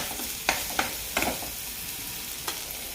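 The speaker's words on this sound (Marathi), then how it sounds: "आता इथेच असं तेलात हे मिश्रण सगळं परतून घ्यायचं आहे" Garlic and curry leaves sauté in hot oil with a steady soft sizzle, while a spoon scrapes the pan in a few sharp, separate strokes, close by and with no voices.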